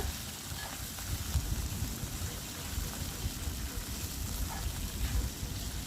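Steady crackling sizzle of dried red chillies and curry leaves frying in hot oil on low heat, continuous and close, with no talking.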